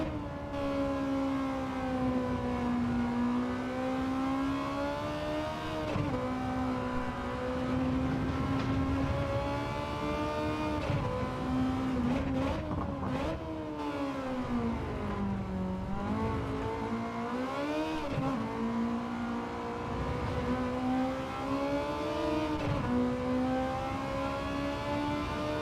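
A non-turbo race car engine in a racing game time trial revs hard and holds at high revs, a loud steady tonal drone whose pitch rises and dips through gear changes and braking, with no talk over it.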